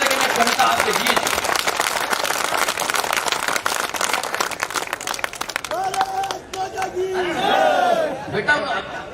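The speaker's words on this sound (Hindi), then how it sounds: "एक बार पूरा सदन अपनी अपनी मां के सम्मान में ताली बजाकर" A hall audience at a Hindi poetry gathering in Bhilwara, Rajasthan claps densely and continuously in honour of mothers, then the applause thins into cheering and crowd voices with some shouting near the end.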